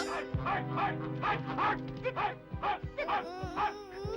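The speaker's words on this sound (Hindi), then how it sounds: "एक कुत्ता।" A dog in a 1979 Doraemon cartoon barks in a rapid series of close, loud yaps over a droning background, ending with a few whimpering yips.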